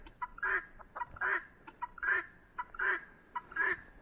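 Guinea fowl and chickens calling outdoors at a snowy roost, with a steady run of rhythmic, repeated harsh cries about every 0.8 seconds, moderately distant, with no talk.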